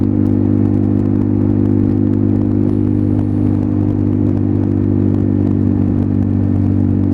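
A Lexmoto Milano motorcycle fitted with a Lextek AC1 runs steadily while being ridden, its loud, continuous engine drone and hum holding near and unbroken throughout, with no voices.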